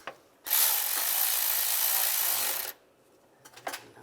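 A hand ratchet tightens bolts on the intake manifold of a 2007-2013 Chevrolet Silverado 1500, a loud, close, rapid clicking burst lasting about two seconds, followed by a few short clicks and taps.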